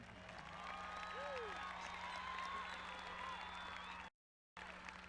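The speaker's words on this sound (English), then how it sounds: "Let's give these guys one more round of applause," Applause from a large crowd at a high school graduation ceremony, a distant, faint wash of clapping in a big venue, with a brief dropout near the end and faint tonal sounds over it.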